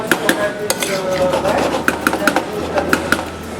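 Soaked dry porcini mushrooms and their soaking liquid go into a pumpkin risotto pan, giving a broad wet hiss under repeated sharp clinks of a utensil against the pan.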